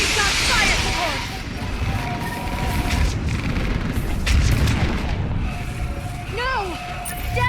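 Artillery fire support in the Mass Effect 3 battle on Thessia: a steady barrage of heavy booms and gunfire rumbles throughout, with whistling and sweeping sci-fi tones and shouted voices mixed in over the din.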